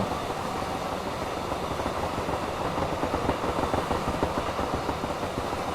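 A British Rail Class 66 diesel freight train rumbles steadily past at close range, a dense roar of wheels and engine with faint rhythmic clacking building toward the end.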